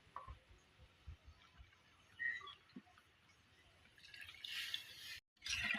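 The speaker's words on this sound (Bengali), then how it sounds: "এই দেখুন আমি ঝোলের পানি দিয়ে দিচ্ছি" Water is poured into a thin pigeon and new potato curry: quiet kitchen sounds first, then a splashing, hissing pour over the last two seconds with a brief break in between.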